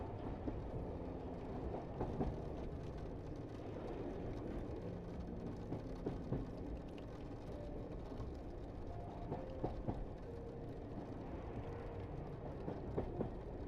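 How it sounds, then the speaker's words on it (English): A night train rolls along its rails toward Sicily, a steady dense rumble with faint clickety-clack and soft intermittent knocks, constant and unbroken throughout with no voices. "The sounds of the train begin moving farther away."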